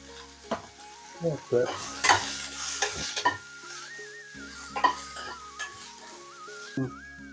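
Garlic added to hot oil for a village-style country chicken sambar, sizzling in bursts while a spoon stirs and clinks in the pan, with sharp scrapes and quieter stretches in between, up close.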